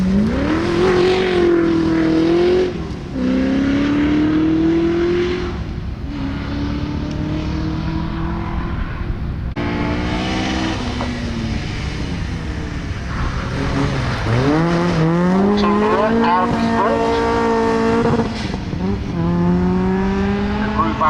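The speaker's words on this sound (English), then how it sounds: "That's two-wheel drive Opel going off there." A two-wheel-drive Opel rally car blasting through a chicane at a rally stage, engine revving hard with rising and falling pitch sweeps as it brakes and accelerates, loud and close, with some voices in the background.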